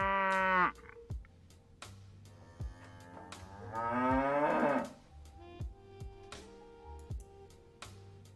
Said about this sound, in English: It was just a cow mooing?